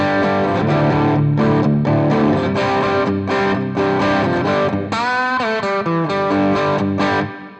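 A short lead lick on distorted electric guitar from a song's chorus, played loud with choppy bursts of notes and a bending run near the end, no one talking.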